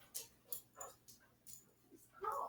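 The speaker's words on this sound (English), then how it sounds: "Oh, my dog is coming." Pet dog Holly whimpers and yips indoors in a few short, soft cries spread over a couple of seconds, with faint background noise between them.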